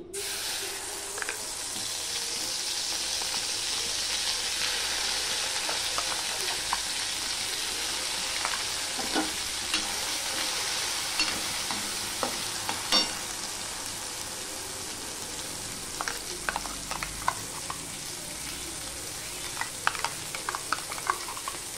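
Steady sizzling of a coriander-leaf spice paste frying in hot oil in a wok, with scattered stirring clicks and scrapes growing busier toward the end; no voices.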